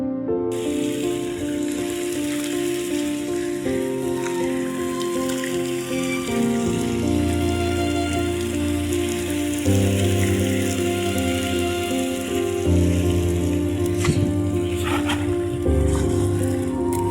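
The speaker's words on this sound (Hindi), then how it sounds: "अल्हम्दुलिल्लाह बारिश ही आ गई है।" Rain pours down outdoors in a steady, dense hiss that runs throughout, mixed with a droning tonal hum underneath.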